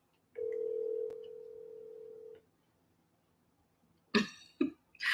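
A single sustained telephone tone plays for about two seconds on an unanswered call, followed by quiet and then a couple of close coughs or throat clears.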